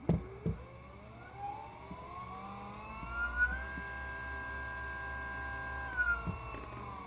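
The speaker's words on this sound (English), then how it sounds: "If I hit the throttle full right now, that motor will jump right off the table." A cheap Amazon ebike motor runs at full throttle on a bench, its whine climbing in pitch, then holding a steady high drone, with a few close clunks at the start and end.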